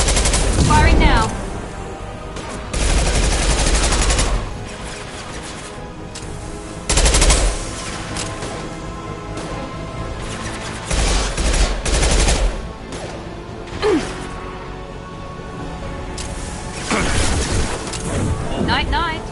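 Sustained weapon fire in Mass Effect 2 Legendary Edition on PS5, loud repeated bursts of automatic shots separated by quieter gaps, with voices and game sound running beneath.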